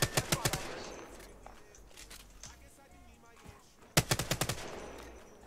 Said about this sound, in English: Why is the gun shooting so fast when I have it on single fire?